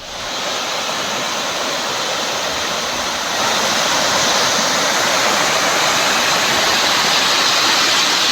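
Swollen stream water rushing after heavy rain in the Sathuragiri foothills near Thanipparai, Tamil Nadu: a steady, loud, close roar of flowing water that swells slightly partway through and continues alone without voices.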